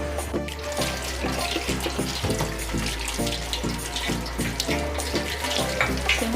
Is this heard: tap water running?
yes